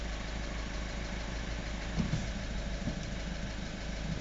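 An Audi A3 1.6 TDI diesel engine idles steadily nearby, a low continuous rumble with a faint repetitive ticking engine knock riding on top.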